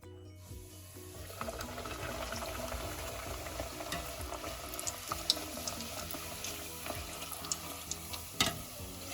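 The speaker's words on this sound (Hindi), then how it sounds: "हमारा भटूरा बेल के तैयार हो चुका है। अब हम तलेंगे।" Rolled bhatura dough frying in hot oil, a steady close bubbling sizzle with scattered spoon stirs and small clinks running throughout, no talking.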